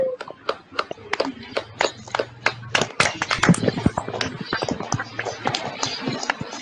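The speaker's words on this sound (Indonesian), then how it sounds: "Yuk, tepuk tangan." A classroom of children claps in sharp, distinct hand strikes, sparse at first, then joined by more hands into a dense, fast patter close by, with a voice briefly under it.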